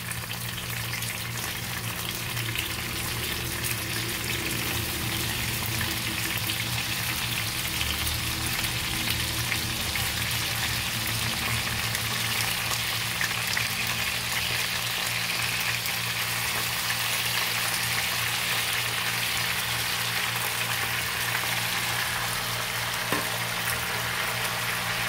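Half-cooked chicken pieces frying in a pan, a steady, loud, even sizzle that holds without a break, with no talking over it.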